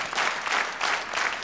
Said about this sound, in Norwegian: Ja, stor applaus.